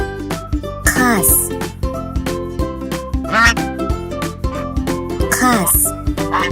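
A goose gives a few loud honking calls, spaced apart over a busy, bright musical backing that carries on throughout.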